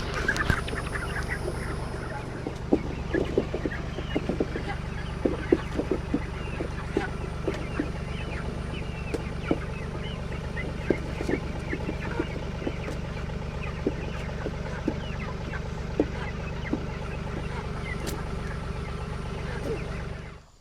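Chickens on a farm cluck faintly and continuously, with scattered soft clucks and squawks over a steady low background hum.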